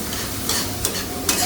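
Food being stirred in a sizzling pan, with scraping strokes of the utensil cutting through the steady frying hiss, close and fairly loud.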